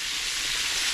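Southern-style catfish pieces deep-frying in hot oil held around 355 to 360 degrees, giving a steady, dense, close sizzle that holds unbroken throughout.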